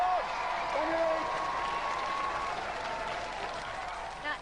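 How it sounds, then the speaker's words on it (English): A Robot Wars studio audience applauds with a steady wash of clapping and a few whoops, while a voice talks over it. "give them a round of applause."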